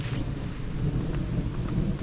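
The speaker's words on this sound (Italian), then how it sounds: "Questo è un tuono." A low, deep rumble of thunder from a storm over the sea in Maremma, Italy, in autumn, rolling steadily for a couple of seconds, with a soft hiss of rain or wind in the background.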